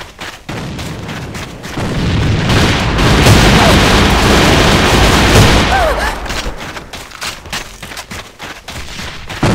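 A grenade going off in a video game amid a battle, a loud rolling blast that swells and sustains for several seconds over ongoing gunfire, then settles into scattered shots and bursts.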